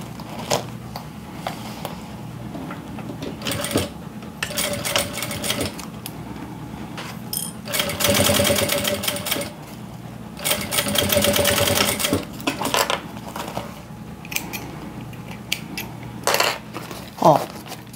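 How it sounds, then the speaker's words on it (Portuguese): Sewing machine stitching a seam on a children's round waist bag, several short whirring runs of stitching broken by pauses, handling clatter and small mechanical clicks. "Vou passar uma costura assim, desse lado."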